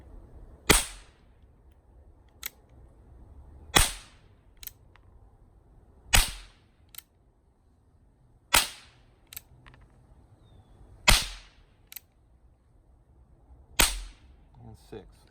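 Cimarron Walker black powder percussion revolver fired six times, each loud sharp crack spaced a few seconds apart with quick decay, plus small clicks of the action between shots.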